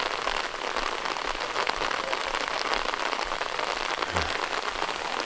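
Rain falls steadily near a small hut in the middle of a rice field, a dense, even hiss of drops on surfaces that stays constant and close throughout.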